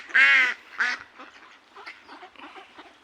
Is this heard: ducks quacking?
yes